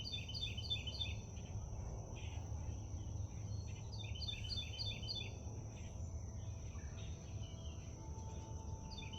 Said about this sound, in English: And that bird, that really loud bird.